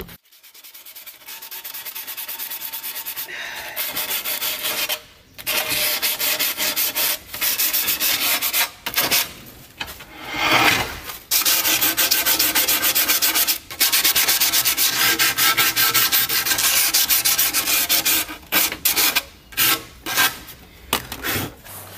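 Hexagonal tile edge being sanded, a steady loud abrasive rubbing that runs almost continuously, broken by a few short pauses, with no voices.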